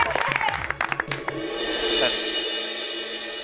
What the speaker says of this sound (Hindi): तो बच्चों, तालियां बजती रहनी चाहिए